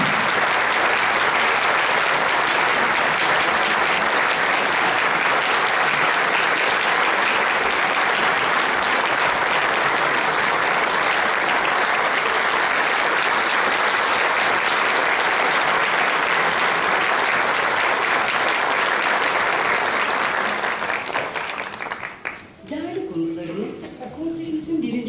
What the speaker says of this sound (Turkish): Çok büyük alkışlarınızla Sayın Yusuf Koçak.